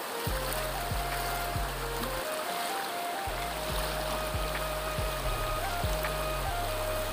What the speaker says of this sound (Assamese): পাহাৰৰ ওপৰত এখন ধুনীয়া নদী বৈ গৈছে